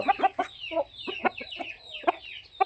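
Seven-month-old chickens clucking close by, a string of short, sharp clucks in an irregular rhythm with brief pauses between bursts.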